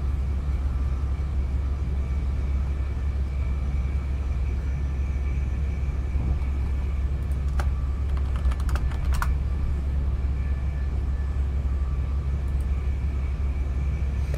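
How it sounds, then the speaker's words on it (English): Loud clicking on a computer keyboard as a quick cluster of keystrokes partway through, sitting over a constant low mechanical rumble. "excuse my very loud typing"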